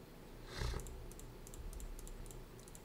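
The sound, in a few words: typing a captcha on a computer keyboard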